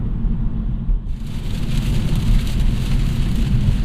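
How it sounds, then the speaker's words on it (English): Heavy rain pelting a 2017 Hyundai Elantra Sport, a steady dense hiss of drops drumming on the car body under a low engine and road rumble. "It's raining cats and dogs out here."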